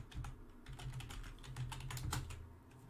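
Quiet typing on a computer keyboard, a close run of soft, irregular key clicks with no talk.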